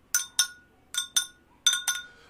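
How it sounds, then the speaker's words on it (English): Glasses clink during a toast, three pairs of bright, ringing taps in quick succession, each pair spaced a moment apart, clear and close with no voices over them. "The ancestors like that clink sound."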